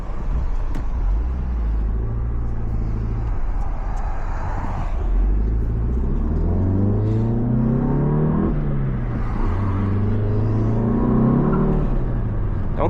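A manual car driven from inside the cabin by a learner easing the clutch, engine rumbling and revving up and down through the gears, steady and close, with no talking.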